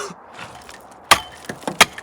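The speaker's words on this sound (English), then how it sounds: "I also have to chip out the ground here because it seems to be frozen solid" Chipping out frozen ground at an off-grid building site: a few sharp, hard impacts of a tool striking the ground, irregularly spaced and fairly close, with quieter scraping between strikes.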